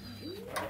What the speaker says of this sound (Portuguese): E aqui tá o pombal.